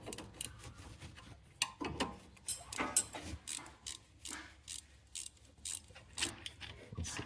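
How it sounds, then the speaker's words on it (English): A ratcheting spanner clicks in short bursts while loosening an Audi A6 C7 anti-roll bar drop link bolt, close and fairly quiet, with uneven pauses between strokes. "Can then put on a ratcheting spanner."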